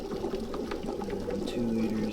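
Engine oil draining from a 1979 Cub Cadet tractor, a steady low gurgling and trickling flow that runs continuously and close, with a faint bubbling tone.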